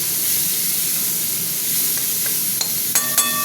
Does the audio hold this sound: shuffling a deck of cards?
no